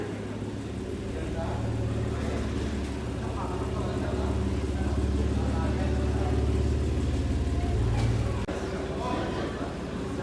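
A Honda NSX sports car rolls into an underground Japanese car meet, its engine a steady low rumble throughout, close by and loud, easing slightly near the end while people talk over it.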